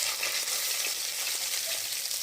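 Rohu fish pieces fry in oil in a pan, giving a steady, moderately loud bubbling sizzle with a dense crackle throughout.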